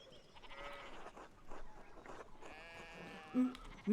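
Sheep bleat several times in a farm setting in the video game Pentiment, a few moderately loud calls over soft background sounds, the last two bleats sharper and closer.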